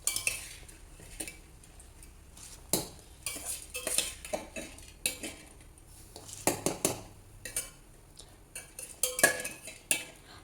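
Soaked rice and lentils stirred into rasam in a metal pot, with repeated scraping clinks of a spoon against the pot in an uneven rhythm, close and fairly loud, no talking.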